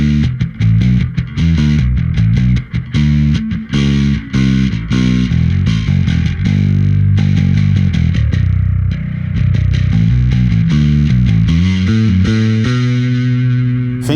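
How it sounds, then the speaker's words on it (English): Bass guitar run through a Darkglass Anagram's Hard Rock Bite mid-forward distortion, playing loud, dense rock riffs with sustained gritty notes and choppy rhythmic passages, alone without talk. "Next one is called Hard Rock Bite. Mid-forward distortion to fit and cut through a dense rock mix."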